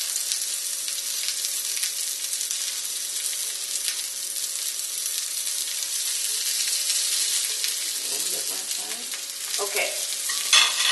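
Gyoza frying in a pan make a steady, close, broadband sizzle and crackle throughout, with some stirring or shifting noises toward the end and no talking.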